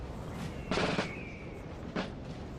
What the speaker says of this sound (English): As long as this guy stops shooting.